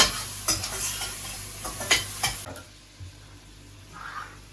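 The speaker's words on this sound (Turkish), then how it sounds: "Şimdi biraz onları kavuruyoruz." Close, steady sizzle of vegetables frying in a pot, with a few scraping stirs early on before the hiss settles down.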